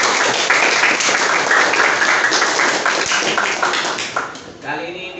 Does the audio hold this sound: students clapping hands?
yes